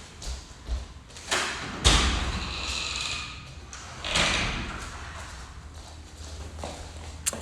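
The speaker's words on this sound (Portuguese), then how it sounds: "Eu vou ter que abrir a porta pro meu cachorro" A house door is opened to let a dog in: a few soft thumps and a sliding rattle at moderate distance in a quiet room, with faint scuffling between them.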